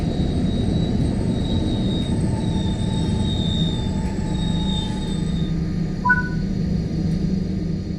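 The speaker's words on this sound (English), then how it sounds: "Bring the train to a stop now by applying the train brake." A train braking to a stop in a railway simulation game, with a steady rolling rumble, long faint wheel squeals and a brief high squeal near the end. It is fairly loud and heard without speech.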